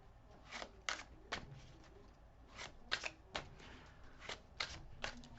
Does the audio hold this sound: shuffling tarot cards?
yes